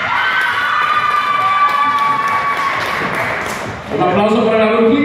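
Audience at a 2015 costume contest cheers and shouts with children's voices prominent, a dense continuous crowd roar that dips briefly near the end before swelling again.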